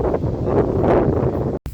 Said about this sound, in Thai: ลมแห้งแห้ง